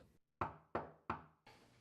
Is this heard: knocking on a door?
yes